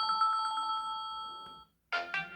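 A Samsung Galaxy ringtone called Classic Bell rings out as a clear, bright electronic bell with steady pulsing tones, then stops briefly before a short burst of a new tone starts at the very end.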